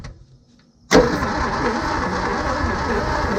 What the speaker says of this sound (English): It sounds like it wants to crank.